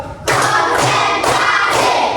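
A classroom of children clap together on a teacher's count, four loud, sharp bursts of clapping in even rhythm, each a brief flurry of many hands.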